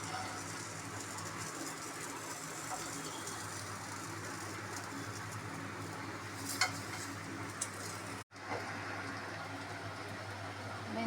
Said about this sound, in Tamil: இன்னொரு சைடு கொஞ்சம் ஃப்ரை ஆகட்டும்